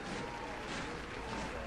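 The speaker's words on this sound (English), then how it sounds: "Crowd applauding the troops." A crowd applauding troops at a military rally in a video game scene, with soft, continuous distant clapping and a murmur of voices, quiet and steady.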